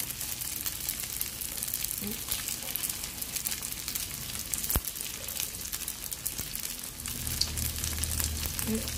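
Vegetarian pork belly fries in a pan over medium heat, a soft continuous sizzle with light pops and a faint clatter, fairly quiet throughout.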